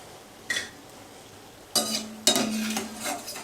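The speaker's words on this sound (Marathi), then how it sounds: "याच पद्धतीने भाजा, जास्त करपू नका." Sweet wheat-flour kapani frying in oil, with a few sharp bursts of sizzling, spatula scrapes and light clinks of a utensil against the pan, close and loud over quiet gaps.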